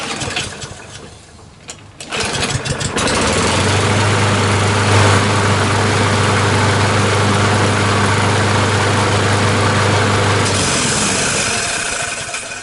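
A small Kohler 149cc XT lawn mower engine on a Lawn-Boy all-wheel-drive mower starts and runs loudly for several seconds, droning steadily with a rough, rattling edge before cutting off.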